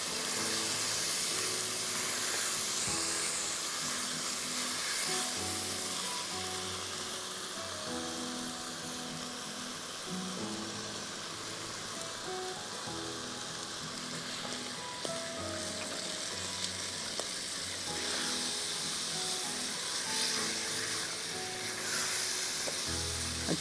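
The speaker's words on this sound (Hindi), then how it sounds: "दही हम इसमें डालेंगे आधा कप, थोड़ी थोड़ी करके डाल दें और भूनते जाएं।" Minced meat fries in a pan with yogurt added a little at a time, giving a steady, dense sizzle like light rain that runs continuously, close and fairly loud, with no voices over it.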